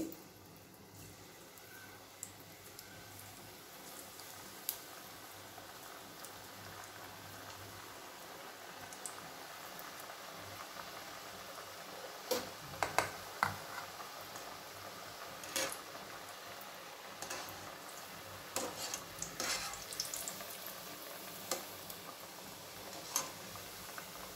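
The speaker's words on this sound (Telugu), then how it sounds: "బాగా హీట్ అయిన తర్వాత ఈ బిస్కెట్స్లను వేసుకోవాలి." Balamrutham biscuits fry in a pan of well-heated oil, giving a faint, steady crackling sizzle with scattered sharp pops throughout and no talking.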